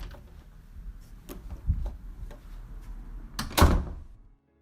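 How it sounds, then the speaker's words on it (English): An indoor door closes in a lounge with a solid thunk near the end, preceded by a few faint knocks and rustles over low background noise. "upon hearing you close the door"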